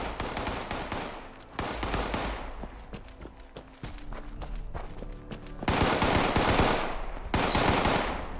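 Rapid automatic gunfire from the video game Fallout 76 Wastelanders, dense bursts of shots rattling through the whole stretch, loudest in two heavy volleys near the end, with no voices over it.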